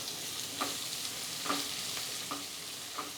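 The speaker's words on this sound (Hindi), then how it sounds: "बस 2 मिनट हमने सारी चीज़ों को चलाते हुए पका लिया" Chopped garlic and onion fry in a pan while being stirred, a steady broadband sizzle punctuated by four or five soft scraping stir strokes at roughly even intervals, close and moderately quiet.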